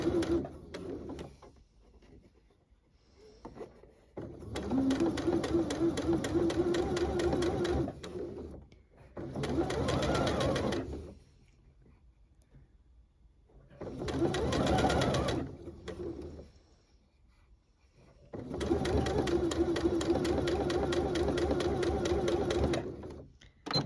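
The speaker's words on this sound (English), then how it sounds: "Get the machine started so that it's caught in the machine, and then you can just fold and sew." A Janome sewing machine runs with a rolled hem foot, hemming fabric in four bursts of steady, rapid stitching separated by quiet pauses, each run several seconds long and close by with no talking.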